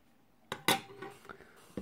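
Spoon clinking against a pot while serving quick Asian salmon noodles: a few sharp metallic clanks and taps, close and distinct, with a louder strike near the start and lighter knocks after.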